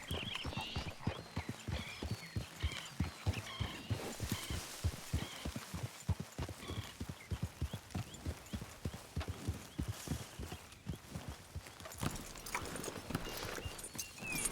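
A ridden horse in a video game clip-clops at a steady gait, its hoofbeats rhythmic and close for a long stretch, with a brief whinny in the middle.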